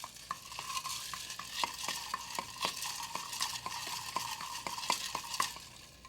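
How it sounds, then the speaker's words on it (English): Ice cubes clink and rattle in a mixing glass as a Cosmopolitan cocktail is stirred, a steady series of bright knocks repeating roughly twice a second over soft hiss. "Stir it around 12 times."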